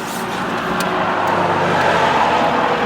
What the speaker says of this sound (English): We're in the country now, so there's a lot of very noisy diesels.